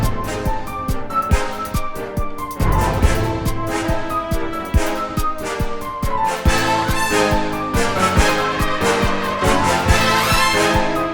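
Full orchestral piece for a track breakdown, with timpani and bass drum building a rise beneath dense strings and brass, loud and continuous with repeated low hits throughout.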